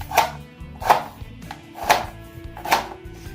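A knife cuts through potatoes on a board in four evenly spaced, crisp chops, close and clear with no talk.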